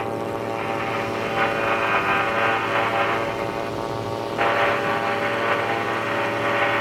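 A Buccaneer II light aircraft engine holds steady near 6,000 RPM during a climb, a loud continuous droning buzz with stable harmonic tone that shifts slightly partway through, with no talking.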